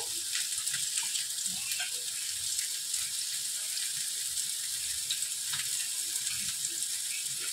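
Kitchen utensil being rinsed under a running tap in a home kitchen, a steady continuous hiss of water spray and splashing that stays even throughout, close and fairly loud with no talking.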